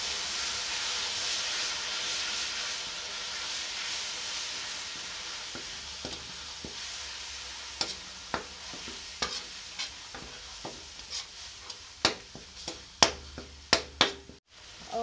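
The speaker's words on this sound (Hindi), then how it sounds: "अब जो है ये सब हम मसाला इसमें तेल में डाल तल लेते हैं।" Spices frying in hot oil in a pan for jackfruit kofta, a steady loud sizzle and hiss that runs throughout, with scraping stirs and clinks growing sharper toward the end.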